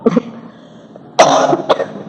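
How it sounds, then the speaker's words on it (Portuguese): A couple of close coughs from a speaker during a lecture, a short one first and then a heavier, harsher burst, with no talking. "Eu estou naquela fase da tosse."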